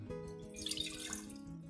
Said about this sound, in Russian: Берем банку и наливаем туда 75 грамм воды.